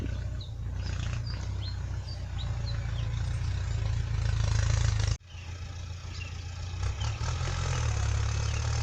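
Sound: walking tractor engine running in a rice field

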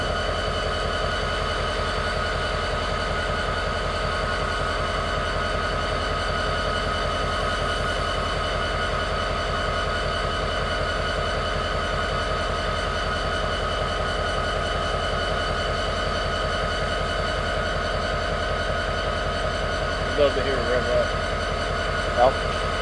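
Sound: BNSF EMD GP39-E diesel locomotive idling

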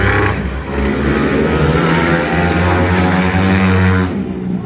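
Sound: motorcycle engine revving

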